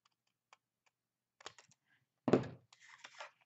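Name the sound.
cutting paper template from mark to mark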